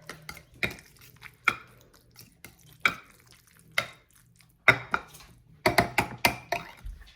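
A kitchen knife stirs a pan of food, its blade knocking and scraping against the pan in irregular, sharp clinks of varying loudness, close by with no talking.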